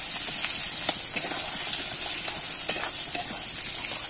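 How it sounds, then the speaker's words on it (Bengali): Bay leaves and onions frying in hot oil, with a steady bright sizzle and occasional light clinks and scrapes from a stirring utensil. "এবার আমি তেজপাতা দেব, পেঁয়াজ দেব, পেঁয়াজটা দিয়ে হালকা একটু নাড়িয়ে নেব।"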